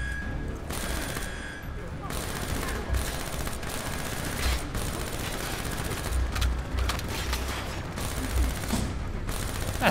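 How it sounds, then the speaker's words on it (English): Heavy, continuous automatic fire from a machine gun turret in Call of Duty: Black Ops III, with dense overlapping bursts and impacts running through the whole clip. "That's a turret."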